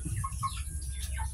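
A chicken clucks a few times in short squawks, fairly faint over a low rumbling background, with no voices.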